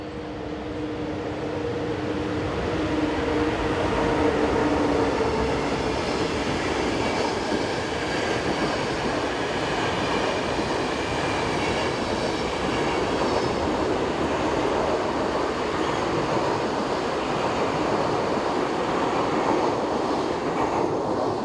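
Austrian electric locomotive 1016.005 hauling the overnight EN 1237 from Vienna to Livorno on the Semmering Pass route, a steady loud rumble of passing rail cars and wheel noise lasting throughout, with brief squealing tones early on.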